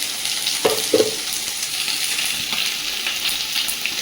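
Whole cumin and dried red chillies dropped into hot oil: a steady crackling sizzle with two brief spoon clinks near the start, continuing evenly without speech.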